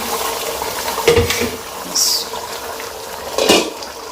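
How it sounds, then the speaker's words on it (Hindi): Tomato puree water is poured into a cooking pot while kaleji masala is prepared, giving a steady wet pouring wash with a few clinks of the pot and utensils. "जो मैंने टमाटर की प्यूरी बनाई थी उसका पानी भी मैंने रखा हुआ है, ये सारा हम इसमें डाल देंगे"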